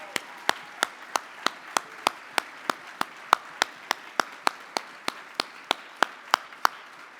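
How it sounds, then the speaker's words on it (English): A Missouri Broadcasters Hall of Fame banquet audience gives a round of applause for inductees, heard as a steady run of about twenty sharp, evenly spaced claps, close and clear, without talk. "Ladies and gentlemen, a round of applause for all of our inductees"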